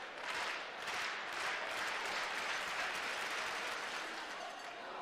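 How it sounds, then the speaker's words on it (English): An audience applauds at a U Sports track and field championship after a high jump attempt, a sustained, even roar of many hands clapping from a distance in a large indoor venue, with faint crowd murmur mixed in. "Big round of applause from the audience."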